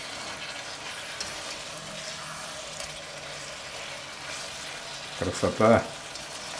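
Beef and veal frying with spices in a pan for chashushuli, a steady low sizzle with soft stirring scrapes, a brief spoken word near the end.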